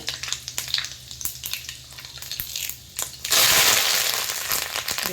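Cumin, mustard seeds and fenugreek hit hot oil for crab sukka, a few scattered crackles and pops giving way to a sudden loud, sustained sizzle and spatter.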